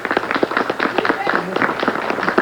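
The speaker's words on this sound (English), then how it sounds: "We want a big round of applause one more time for Cellular One." A studio audience at a 1993 Cerebral Palsy telethon claps steadily in a dense, loud burst of applause that lasts the whole moment, with voices mixed faintly underneath.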